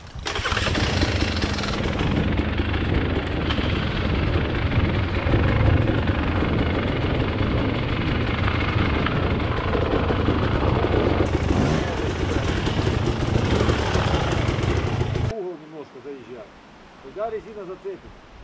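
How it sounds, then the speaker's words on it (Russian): A loud motor engine roars steadily for several seconds, then cuts off abruptly, leaving quieter background sounds. "Мотор заведи."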